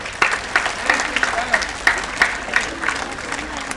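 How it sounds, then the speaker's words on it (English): An indoor audience at a school or morning assembly claps together in scattered, uneven bursts, moderately close, with a voice faintly present beneath the clapping. "Can we give each other an applause?"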